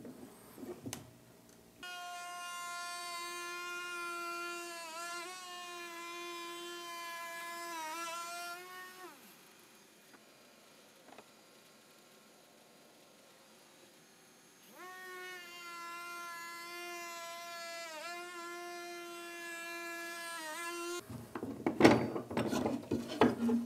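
A wood router with a spinning bit cuts a channel along the inside edge of a picture frame, a high whining tone running steadily for several seconds, pausing into quiet, then whining again before ending in clattering noise.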